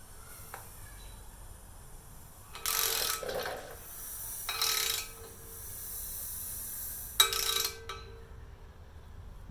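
Ratchet wrench turning an engine crankshaft to rotate a degree wheel while degreeing a Howards camshaft, heard as three separate bursts of clicking, close and moderately loud, with quiet pauses between them and no talking.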